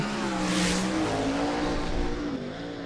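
A sprint car in a USAC National Sprints race at Volusia Speedway Park roars through a lap, its engine a sustained, loud, slightly shifting drone with a brief rise early on.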